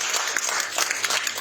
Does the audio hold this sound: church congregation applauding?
yes